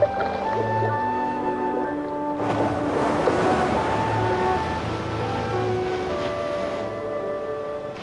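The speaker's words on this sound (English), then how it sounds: "Where the waves are breaking is a massive barrier against the power of the sea." Ocean waves break on an exposed rocky shore on a point of land beyond a coral reef, with a steady surf roar that swells into a louder crashing surge midway, then eases, and no talking.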